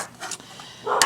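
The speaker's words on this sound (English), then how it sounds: "so there'll be lots of barking today" A dog barks from across the street, where house repairs are going on, giving a few short muffled distant barks and a whimpering yelp in a brief burst.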